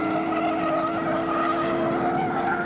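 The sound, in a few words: Porsche race car braking and downshifting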